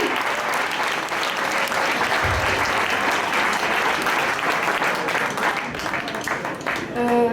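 A rally crowd gives a band a long, full round of applause, dense steady clapping with a brief low thump partway through and a voice emerging faintly at the close.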